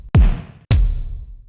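Two deep, punchy kick drum hits in a pop style, each a sharp thump that falls into a booming low tail, about half a second apart, loud and alone.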